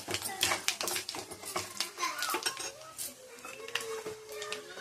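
Pappu gongura, a dal with sorrel leaves, stirred in a pot with a utensil, giving a string of close metallic scrapes and clinks against the pot, with voices faintly in the background.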